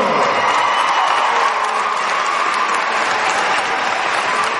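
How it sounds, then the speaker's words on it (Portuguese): Audience at a gala honouring tumbling athletes breaks into strong applause, a dense, loud clatter of clapping mixed with some cheering, sustained evenly throughout. "Chamamos a atleta Rita Cunha, com um forte aplauso!"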